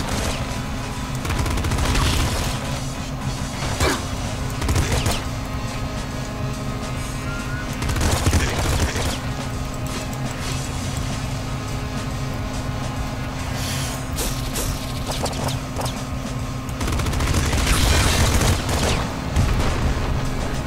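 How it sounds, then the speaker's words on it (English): Pop gun firing in the game Nuclear Throne: dense bursts of rapid shots over a continuous background of game music and effects, loud and busy throughout with brief louder clusters. "Pop gun, pretty good weapon."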